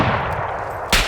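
Machine gun fire in the military video game Arma, a rough continuous rattle of shots that ends in one louder, sharper burst, close and with no talk.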